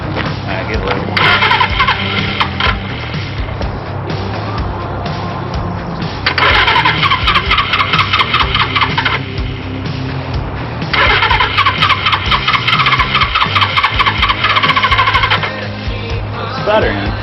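A 1978 Suzuki motorcycle engine runs roughly with an uneven, sputtering idle, then swells into two longer bursts of louder, rougher throttle with sputtering misfires, close by and continuous throughout.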